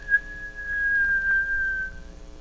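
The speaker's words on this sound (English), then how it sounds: "He pushed it open and gave a shrill whistle." A single shrill, sustained whistle from a ghost story recording, held steadily for about two seconds, clear and upfront with no talk.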